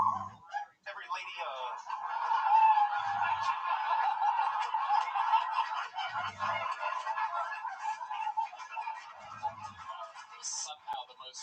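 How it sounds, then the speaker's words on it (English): A 'Jungle Bird' soundboard effect plays on a talk show, a loud, nasal, goose-like honking call that carries on for several seconds, with low thumping pulses recurring every few seconds beneath it. "That sound is called Jungle Bird."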